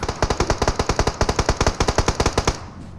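Rapid automatic gunfire, a steady burst of about twenty evenly spaced loud shots, stopping abruptly near the end.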